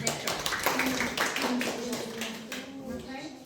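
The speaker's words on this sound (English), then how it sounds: "let's applause" A class claps together in a room, with a burst of scattered hand claps fading over a few seconds while voices talk over them.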